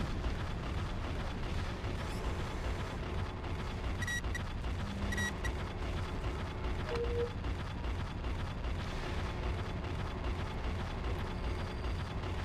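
Mech reactor breach explosion in MechWarrior 4: Vengeance, a long rumbling blast with a roaring low-end tail that churns on for many seconds, with a few short electronic tones over it.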